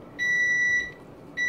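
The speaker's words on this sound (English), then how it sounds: "my timer's going off" A timer goes off with two bursts of high, steady electronic beeping, the first long and the second starting near the end, loud and close over faint background.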